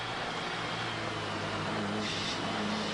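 Car racing along at high speed in the Getaway in Stockholm 2 driving game, a steady broadband engine and road roar that holds continuously and loudly throughout, with no talk.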